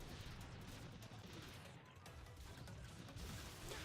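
Enemy gunfire in the video game Cloudbuilt: a dense, continuous rattle of shots at fairly low volume, steady for a few seconds with no voices.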